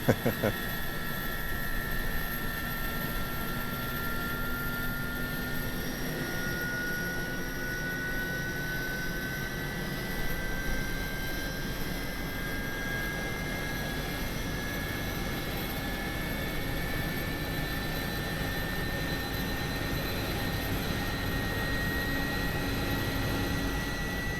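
An Airbus A300 jet engine runs at a steady whine with a rising tonal pitch, heard from inside a DHL freighter, continuous and moderately loud throughout.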